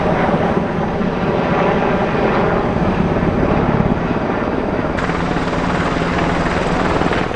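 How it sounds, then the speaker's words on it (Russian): Helicopter rotor thumping fills the air near Tokyo, a loud, continuous chopping drone overhead that holds steady throughout. "Это вертолеты японские или американские, кто знает."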